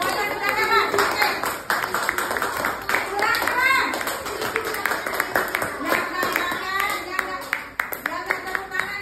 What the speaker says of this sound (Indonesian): Coba semuanya tepuk tangan dulu buat kita semuanya.